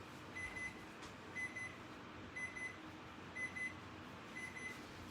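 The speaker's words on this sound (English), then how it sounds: "Gotta turn the timer off." An oven timer beeping in a home kitchen, five evenly spaced paired electronic beeps about a second apart, thin and steady over a low background hum; no talking.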